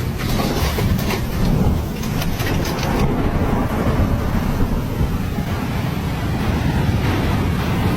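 Floodwater rushes over an interstate highway during flooding in Georgia and Tennessee; a loud, steady roar of churning water with wind buffeting the microphone fills the whole stretch.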